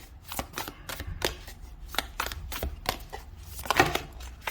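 A deck of cards is shuffled by hand, with a quick series of crisp riffles and slaps in an uneven rhythm, close and fairly loud.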